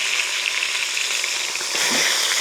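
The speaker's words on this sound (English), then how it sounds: "Listen to that sizzle." Cheeseburger soup ingredients fry hard in bacon grease in a pot on a wood stove inside a hot tent, giving a loud, steady, close sizzle with crackling throughout.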